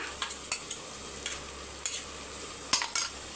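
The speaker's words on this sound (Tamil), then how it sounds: "இப்போ அரைச்ச விழுதை சேர்த்துட்டு நல்லா பச்சை வாசனை போகிற அளவுக்கு நல்லா" Ground masala paste sautéing in oil in a pan for Dindigul-style mutton biryani, with a spoon stirring and scraping in scattered strokes over a low steady sizzle; no one speaks.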